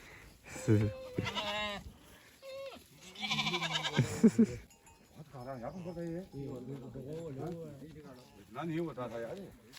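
Goats bleat in loud, wavering cries near the start while being fed deworming medicine on a Himalayan trek near Bageshwar, followed by softer talk and further faint bleats.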